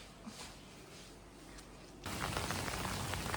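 Rain falling over a resort pool at Kamala Beach in Phuket during the late-May rainy season, a soft steady hiss that abruptly grows into a louder, denser downpour halfway through.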